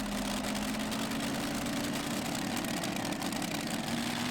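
A pulling tractor's engine idles at a tractor pull championship final, a steady, loud low drone with a constant hum and no break in the sound.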